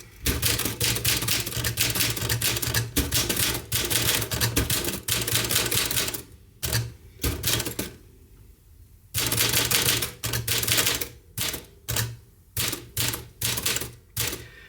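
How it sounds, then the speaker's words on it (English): A Smith Corona Silent typewriter, with a missing Q key, clacks in rapid bursts of keystrokes, close and crisp, with short pauses between runs of typing. "So if we start with just typing"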